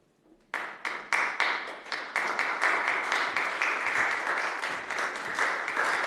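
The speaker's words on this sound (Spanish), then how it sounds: "La firma de la encíclica, como pueden ver y escuchar, es acogida por los aplausos de los frailes y los prelados presentes." Friars and prelates applaud at the signing of the encyclical Fratelli Tutti at the altar before the tomb of Saint Francis in Assisi, steady indoor clapping from many hands that starts after a brief quiet moment and continues without talk.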